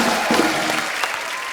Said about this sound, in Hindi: जोरदार तालियां हो जाए ब्रेड के लिए